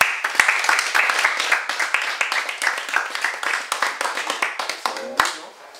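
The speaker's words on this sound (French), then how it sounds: "C'est bon. On peut applaudir." Audience at a training and coaching session clapping: a quick, dense run of close hand claps in an uneven rhythm that holds steady, then tapers off near the end, with some voices mixed in.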